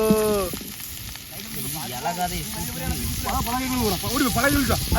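Fish frying in a pan on the beach, a soft continuous sizzle running beneath nearly constant close talk and laughter.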